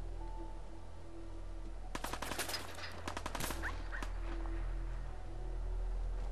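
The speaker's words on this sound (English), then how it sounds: "Are we getting shot at?" A rapid burst of automatic gunfire in the video game Fallout 4, sharp cracks in quick succession lasting about two seconds, followed by a few scattered shots over a steady background hum.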